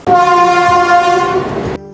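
A train horn blares in one long, loud, steady blast lasting nearly two seconds, with faint rail clatter underneath, on a train from Kolkata toward Devkund in Odisha.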